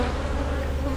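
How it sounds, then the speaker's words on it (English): Honey bees humming thickly across a brood frame lifted from a productive hive, a close, steady, dense buzz with a low drone that holds evenly through the whole short moment. "Good spread of bees, look at that."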